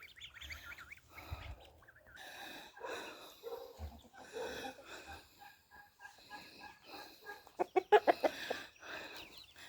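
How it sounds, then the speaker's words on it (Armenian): Half-grown farmyard geese honk and chatter faintly at close range, the calls scattered at first and then rising into a quick run of louder squawks. "Սրանք էլ իմ սագերն են"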